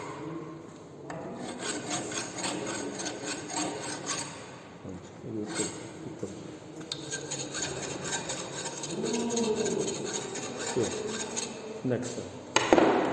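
A fine hand file deburrs a steel workpiece in a fitting shop, scraping in repeated rhythmic strokes at close range, with some pauses and handling noise.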